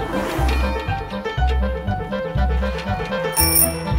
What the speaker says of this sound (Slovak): Toto je zvuk zvončeka poštára Juraja